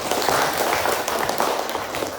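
Students in a classroom clap for their classmates, a steady dense patter of applause filling the room throughout without pause.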